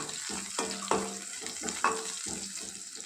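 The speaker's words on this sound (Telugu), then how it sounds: "పచ్చిమిర్చి ముక్కలు, అదేవిధంగా కరివేపాకు వేసి బాగా వేయించుకుందాం." Onion, green chilli and curry leaves frying in oil for a bottle gourd and dried fish curry, a faint steady sizzle with a few spoon clinks and stirring knocks, close and quiet without speech.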